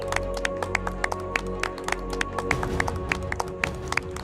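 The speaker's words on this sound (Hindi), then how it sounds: "सासू माँ के लिए तालियां।" Scattered, fairly quick clapping for a mother-in-law in a Hindi TV serial scene, sharp close claps over a steady background hum, from what sounds like a small group.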